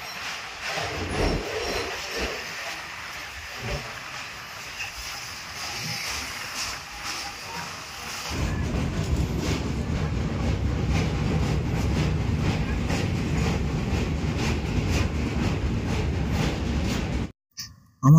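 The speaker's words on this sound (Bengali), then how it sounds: "আমাদের ট্রেন এখন দক্ষিণেশ্বর ছেড়ে বিদ্যাসাগর সেতুর ওপর দিয়ে যাবে।" A train crossing the Vidyasagar Setu after leaving Dakshineswar rumbles steadily, and its low, dense roar swells at the midpoint as the wheels run onto the bridge before it cuts off abruptly near the end.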